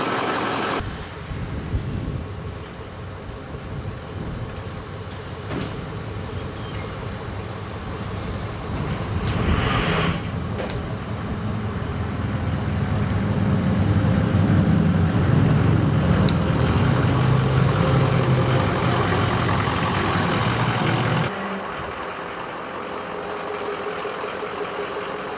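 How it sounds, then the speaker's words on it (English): A Ford F450 with a 6.0 Powerstroke diesel, whose injectors are dropping out, on a test drive. A steady engine and road drone swells in the middle and eases near the end, with no talking. "So I'm wrapping up this F450 with the 6-liter diesel."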